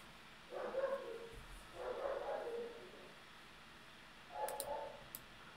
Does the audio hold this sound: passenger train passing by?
no